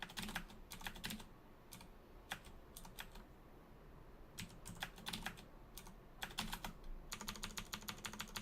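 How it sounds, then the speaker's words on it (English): Soft, close clicks of a computer keyboard, with the tab key pressed again and again in quick irregular runs and small clusters while playing a roguelike game, quiet and without voices. "because I am pressing tab a lot"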